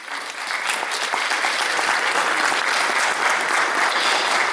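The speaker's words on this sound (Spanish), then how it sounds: "Vamos a aplaudirlo, que se ponga de pie." Loud, sustained applause from an indoor crowd at an Indigenous Peoples' Day event in Cajamarca, Peru, continuing steadily throughout without speech.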